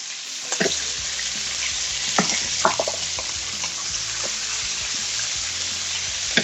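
Crushed garlic sizzling steadily in hot frying oil for roast beef, a loud continuous hiss with scattered pops and crackles, no voices.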